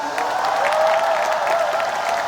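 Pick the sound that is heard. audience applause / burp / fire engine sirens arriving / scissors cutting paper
audience applause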